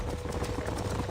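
Horse hooves clip-clopping in Red Dead Redemption, a quick steady trot of hoofbeats at moderate distance, continuous and alone for a brief moment.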